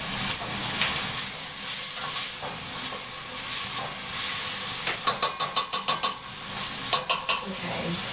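Garlic and onions sizzle in a hot pan, a continuous bright crackling hiss broken by a quick run of sharp stirring scrapes and knocks near the end.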